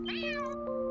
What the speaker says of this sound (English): I see that cat every now and then. I guess this is his turf? Why are you so angry?